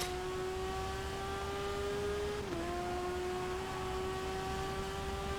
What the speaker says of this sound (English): that engine sounds beautiful